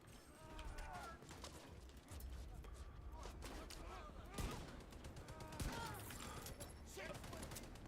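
Rapid gunfire from the PC shooter The Division 2, a steady barrage of shots with a couple of sharper louder cracks, close and continuous for the whole stretch while someone talks over it.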